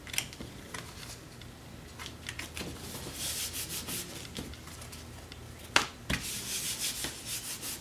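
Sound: bone folder rubbing glued paper album cover

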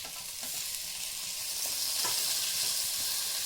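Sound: onions and tomatoes frying in a pan

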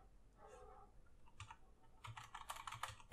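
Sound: typing WASD keys on a Pok3r mechanical keyboard

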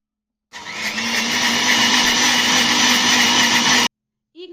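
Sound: mixer grinder grinding cardamom with milk

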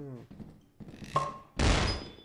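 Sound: homemade flashbang going off in Lethal Company video game

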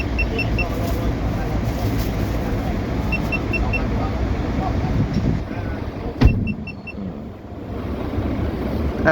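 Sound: Scania bus five-cylinder Euro 5 nine-litre engine running

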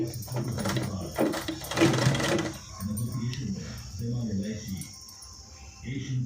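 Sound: sewing machine stitching a blouse

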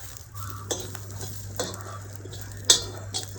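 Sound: whole spices being stirred and fried in a pan

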